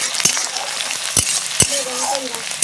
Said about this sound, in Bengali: আর এদের কাঁচা গন্ধটা না যাওয়া পর্যন্ত ভাজতে থাকবো।